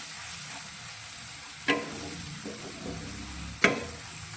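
Ground spices with amchur powder stirred in a sizzling pan for a green pea ragda, a steady hiss broken by two sharp scrapes of the spoon against the pan.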